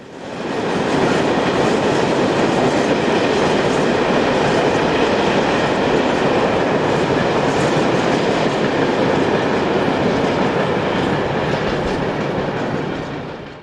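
An Austrian class 1014 electric locomotive hauls a northbound freight train past reception sidings, a loud sustained rumble with rhythmic clickety-clack of wheels over rail joints, fading in and out at the ends.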